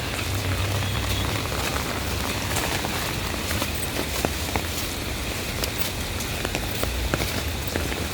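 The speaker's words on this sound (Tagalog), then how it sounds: "Hala, lalo nang nalakas ang ulan." Heavy rain pours steadily on a rainy morning in Kuwait, a dense constant hiss with scattered sharper drop impacts, close and loud throughout and building in intensity, with no voices over it.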